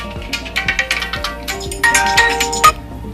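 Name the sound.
phone ringing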